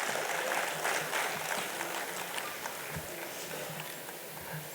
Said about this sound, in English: Can we have a huge round of applause for all these people on the dais